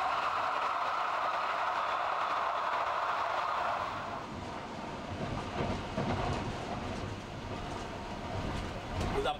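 Heilbronn Stadtbahn tram-train running on a railway line, a loud steady rumble with rhythmic wheel clatter and rail noise throughout, close by, no speech.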